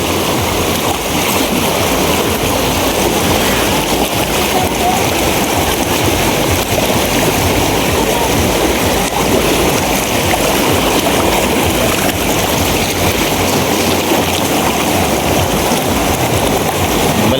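Strong river current rushing loudly and steadily, a broad continuous wash of flowing water close by, with no talk.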